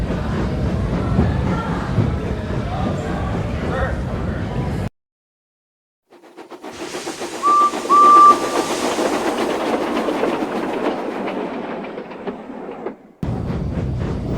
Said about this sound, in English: Edward was coupled up to his coaches and he departed from Knapford.